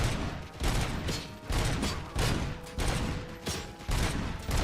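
Sustained, rapid gunfire in a RoboCop first-person shooter video game, loud and continuous with a regular pulsing rhythm of bursts roughly every half second, no voices.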